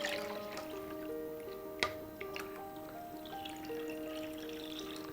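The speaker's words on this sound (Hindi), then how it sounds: "अब हम पानी डाल लेते हैं।" Water pours into rice for chicken biryani, a soft trickling splash with a brief clunk near the middle, faint under steady background music.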